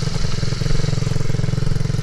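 MRF 80cc pit bike engine revving steadily, a loud, close, buzzing single-cylinder drone with a rapid pulsing rhythm.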